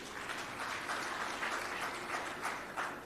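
Steady applause from a large audience at the ANC National General Council, a continuous wash of clapping at moderate, even level throughout.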